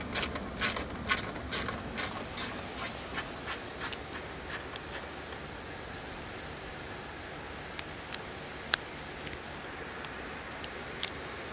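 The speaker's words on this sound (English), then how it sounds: "So we're going to continue to use our 10mm socket." A hand ratchet with a 10mm socket loosens fasteners on a plastic engine-bay panel of a 2005 Toyota Camry, a fast run of crisp clicking strokes that slows into scattered single clicks over a quiet shop background.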